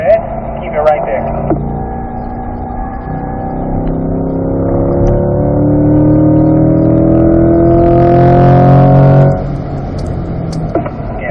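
A C8 Corvette at Spring Mountain Raceway, heard from the cabin as its engine opens up to full throttle, a loud, steadily rising roar that climbs in pitch for several seconds before cutting back.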